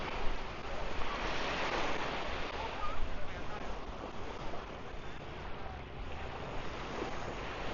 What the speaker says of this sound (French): Le son des vagues